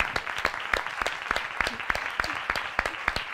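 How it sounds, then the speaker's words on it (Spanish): Audience applause at a 2014 WordPress meetup round-table session in Marbella: a modest crowd clapping steadily with distinct, separate hand claps, moderately close and fairly even throughout, with no voices over it. "le pongamos un aplauso ahora a esa gente"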